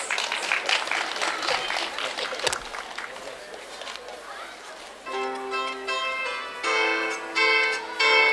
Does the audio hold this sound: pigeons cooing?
no